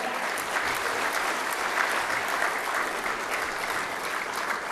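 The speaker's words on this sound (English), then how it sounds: "Give him a round of applause." A comedy club audience gives a comedian steady, dense applause that holds at an even level throughout with no voices over it.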